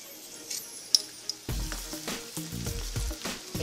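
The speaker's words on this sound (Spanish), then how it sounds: "freímos la tortilla" A corn tortilla for mole enchiladas drops into hot oil and sizzles loudly and steadily after a few quiet clinks, the frying crackle continuing up close to the end.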